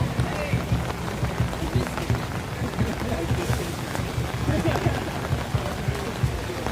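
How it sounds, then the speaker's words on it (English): Steady rain pours down at an outdoor dragon boat race festival with vendor stalls, a dense even hiss throughout, while people talk nearby. "once the rain lets up in an hour or two, there's gonna be throngs of people out here"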